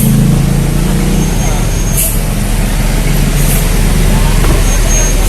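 A TransJakarta bus at a city stop at night gives sharp air-brake hisses over a loud, steady engine idle and roadway noise, with someone talking nearby.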